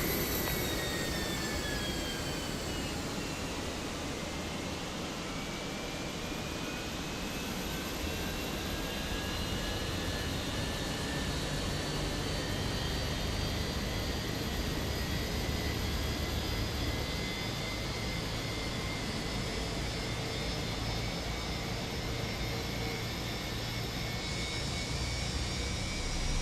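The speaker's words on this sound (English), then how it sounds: "we got an engine starting up" Airliner jet engine spooling up during pushback, a steady broadband roar with rising whine tones sweeping slowly upward, heard at moderate distance throughout without voices.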